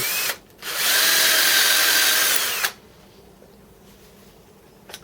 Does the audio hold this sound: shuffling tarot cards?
no